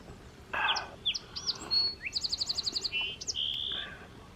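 Outdoors at a morning campsite on Vancouver Island, a bird calls loudly and close by in shrill chirps, rapid trilled runs and one sustained whistle, with nothing else heard.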